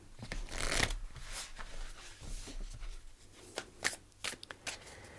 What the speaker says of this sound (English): Let's pull you a spirit animal oracle card.